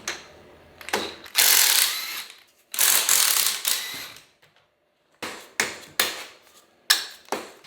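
A ratchet wrench works on a truck's sway bar in quick bursts of rapid clicking, several separate runs broken by short pauses, close and clear.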